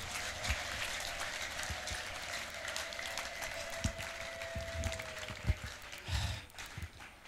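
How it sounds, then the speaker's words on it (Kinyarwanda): A church congregation claps together in faint, distant applause, a dense patter of hands running throughout over a low sustained tone. "ndagira ngo duhe Yesu amashyi"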